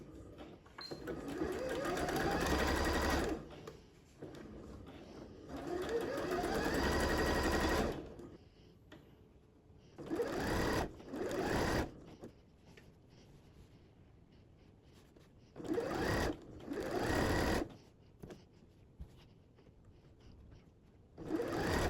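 A sewing machine stitches curtain fabric in several separate runs, some a few seconds long and others short. Its rapid, even mechanical whir stops and starts with quiet gaps between the bursts, close and clear.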